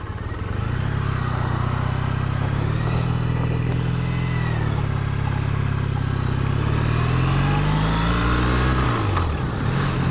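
A 2013 Triumph Bonneville motorcycle is ridden with a loud, continuous engine drone close to the microphone, its pitch rising and falling through gear changes and throttle, with wind and road noise throughout.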